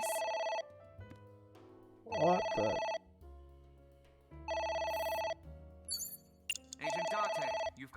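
A phone ringtone from the video game AI: The Somnium Files repeats in four evenly spaced bursts with quiet gaps between them, and a short spoken exclamation is heard near the start.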